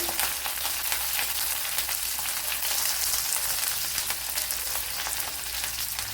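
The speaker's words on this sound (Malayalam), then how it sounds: "അഞ്ചാറ് വെളുത്തുള്ളി എടുത്തിട്ടുണ്ട് അത് ഇട്ട് കൊടുക്കാൻ" Garlic cloves fry in a hot pan in a Kerala-style green pea dish, giving a steady, even sizzle with fine crackle that holds at one level throughout, close and with no voices.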